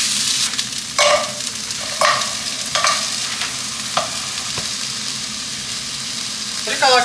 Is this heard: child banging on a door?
no